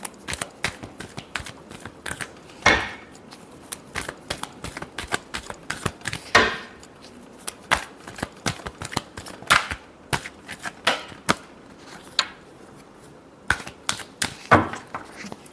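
Tarot cards being shuffled in a final shuffle, a long run of quick, crisp card flicks and riffling clicks in an irregular rhythm, close and fairly steady throughout.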